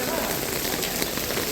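Heavy rain pours down on a street in Torremolinos, Spain, in March. It makes a dense, steady patter and hiss of drops hitting hard surfaces nearby.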